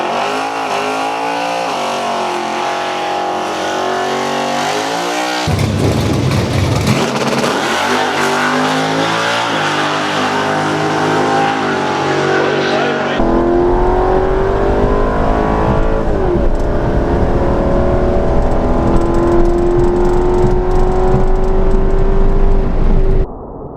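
A modified Mercedes E55 AMG launching down a quarter-mile drag strip, its engine roaring loud and continuous, rising through the gears with clear shifts and a steady climbing whine.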